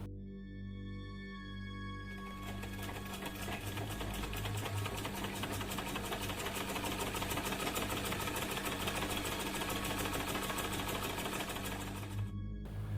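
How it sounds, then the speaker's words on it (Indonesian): A sewing machine runs inside an empty building, its motor whirring in a fast, steady mechanical chatter that starts after a faint hum, continues evenly for about ten seconds, then cuts off. "suara mesin jahit yang nyala di dalam gedung itu"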